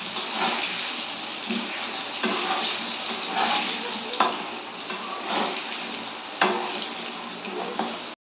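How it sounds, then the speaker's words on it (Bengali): Continuous hissing sizzle of potatoes frying in oil, with a few sharp clinks of a utensil against the pan, close and moderately loud. "এবার আলুটা আমি দিয়ে দেবো এর মধ্যে, একটু ভেজে নেব।"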